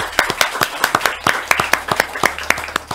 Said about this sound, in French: Ça s'applaudit, ça s'applaudit.